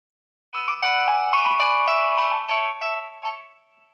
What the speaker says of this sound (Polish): Oczywiście musi być Nokia Tune.